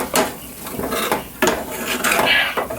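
A metal spoon scrapes and clanks around a skillet of browning sausage and flour for gravy, giving several sharp, close strikes in an uneven rhythm.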